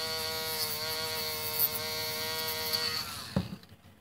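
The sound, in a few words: battery Dremel rotary tool grinding slot car body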